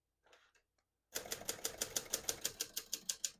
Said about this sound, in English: We're going to keep that on single for now and finish typing.